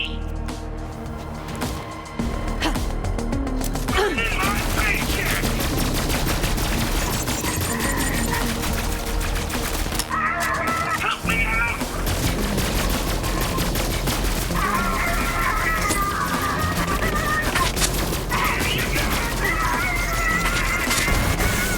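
Sustained video game gunfire rattles on in dense, continuous volleys for about twenty seconds, loud and close, with brief bursts of other game effects layered over the shooting.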